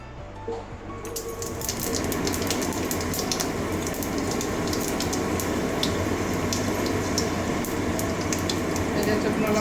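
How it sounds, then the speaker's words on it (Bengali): Half a spoon of panch phoron five-spice dropped into hot oil, quiet at first and then breaking into a loud, steady close sizzle that keeps crackling without letup. "তেল গরম হয়ে গেছে এবারে হাফ চামচ পাঁচফোড়ন দিয়ে দিচ্ছি"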